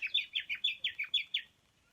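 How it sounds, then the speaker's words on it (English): A reed warbler sings a quick series of about eight repeated chirpy, scratchy notes in a steady rhythm, fairly close, then falls quiet. "that may have been a reed warbler"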